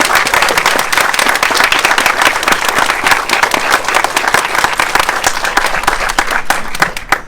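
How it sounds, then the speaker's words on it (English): Crowd applauding steadily and loudly at a Pride flag raising in the borough of West Reading, the clapping dense and sustained for the whole stretch. "So please, round of applause for your council members and your mayor."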